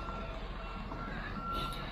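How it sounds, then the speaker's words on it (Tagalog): A delivery truck backing up sounds repeated reversing beeps, a steady high tone pulsing over constant traffic-like rumble outdoors, moderately near. "May delivery truck pa, oh."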